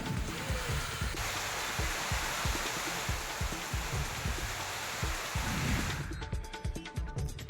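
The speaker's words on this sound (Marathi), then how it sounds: "वादळी वाऱ्यासह अवकाळी पावसाला सुरुवात झाली आहे" Unseasonal rain driven by stormy wind: a steady, dense broadband wash of falling rain with gusty roar, continuous and fairly loud throughout, easing slightly near the end.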